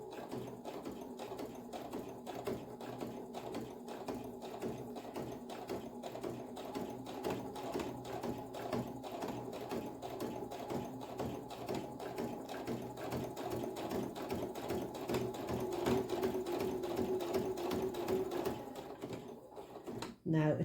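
A sewing machine stitching a fabric bookmark, a fast steady mechanical chatter with rapid even needle strokes, heard close and continuously until it stops near the end, with a voice talking over it.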